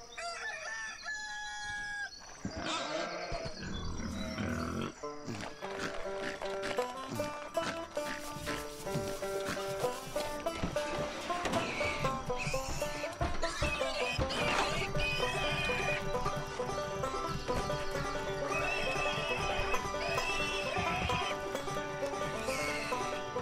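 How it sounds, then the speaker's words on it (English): Horse hooves clip-clopping and whinnying, with rooster crowing and farm animal calls over game music, while riding a horse to a farm in the video game Lego City Undercover; sounds continuous and fairly loud throughout. "I forgot how it feels like to ride a horse in this game."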